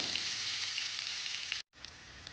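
Fish fries in hot oil with chopped curry leaves, giving a steady, close, bright sizzle that cuts out briefly and then resumes.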